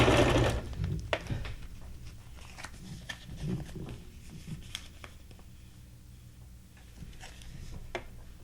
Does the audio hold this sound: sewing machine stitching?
yes